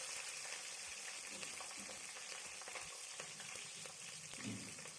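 Whole spices with green chillies frying in oil for mutton curry: a soft, continuous sizzle and crackle with occasional stirring clicks, quiet and close.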